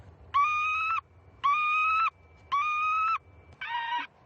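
A recorded lapwing distress call broadcast from a loudspeaker at an airport: four evenly spaced, loud, drawn-out wailing cries, each about half a second long, clear and harmonic over faint low rumble.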